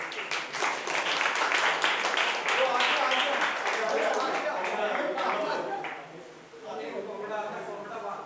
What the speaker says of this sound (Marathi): टाळ्या होऊन जाऊ देत जरा